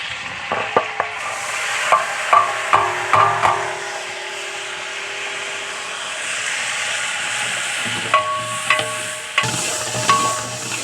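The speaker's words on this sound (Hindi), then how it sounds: "प्याज को अच्छे से फ्राई कर लेंगे।" Onions fry in a large pot for chana pulao, a steady sizzle and hiss under repeated loud scraping and clanking stirs of a ladle against the metal.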